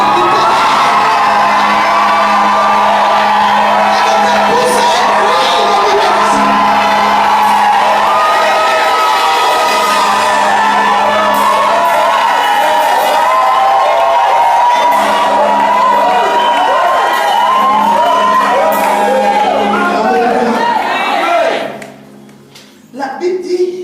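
A church congregation shouts and cheers loudly for a long stretch, a dense roar of whoops and yells with voices overlapping, before it drops off near the end.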